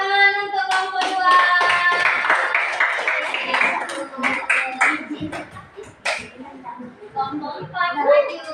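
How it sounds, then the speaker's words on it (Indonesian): A classroom group claps for a student group, giving a dense burst of hand claps that thins into scattered claps, with voices talking over it and a ringing tone at times. "Oke, tepuk tangan untuk kelompok 2."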